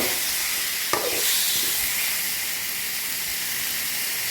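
Chicken pieces sizzle in a hot pan with garlic for arroz valenciana, a steady loud hiss and crackle of frying with a brief clack of stirring early on.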